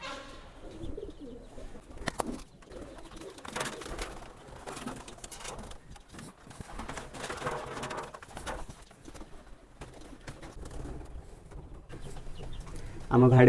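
Racing pigeons coo while chickens cluck nearby around a home loft, with steady close bird calls throughout and a person talking over them at times.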